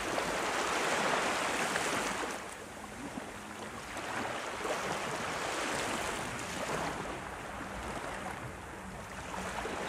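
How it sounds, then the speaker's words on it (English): Ocean waves wash in a continuous broadband roar that swells and eases gently over several seconds, with no voices over it. "Mimicking perpetual ebb and flow of the waves"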